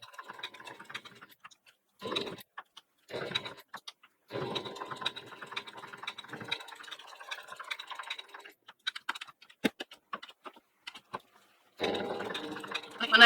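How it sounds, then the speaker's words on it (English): A home sewing machine stitches around a raw-edge appliqué fabric leaf on a fall quilt block in short bursts of rapid needle chatter, stopping and restarting between clicks, close and clear with no speech. "So I'm going to finish stitching around this leaf."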